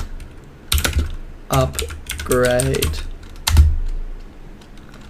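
Computer keyboard typing a terminal command, with quick bursts of key clicks close to the microphone under a voice that speaks throughout.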